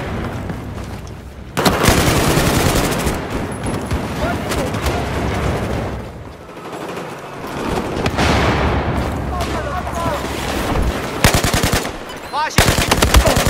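Sustained machine gun fire in the video game Battlefield 4, with long dense bursts of rapid shots and booms running nearly the whole time, broken by a brief lull in the middle.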